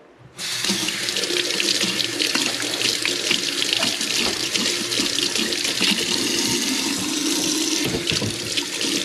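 Water runs steadily from a kitchen tap into a sink, a loud, close, continuous splashing rush that starts abruptly and carries on without pause, with no voices.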